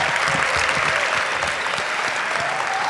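An audience at a mayoral inauguration in Chattanooga applauds the new city council with sustained, dense clapping that fills the hall at an even level, with faint crowd murmur beneath.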